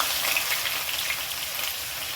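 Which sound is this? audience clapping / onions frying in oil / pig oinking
onions frying in oil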